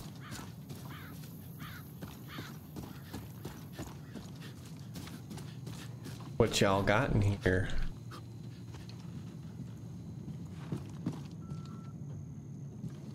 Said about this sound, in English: Did I hear a horse?